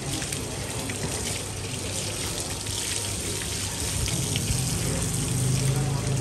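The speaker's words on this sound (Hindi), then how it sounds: "खड़ी होके नहाएगी टिक्की" Water pours and splashes steadily while a pet dog is bathed, a continuous close wash of running water with a voice talking over it.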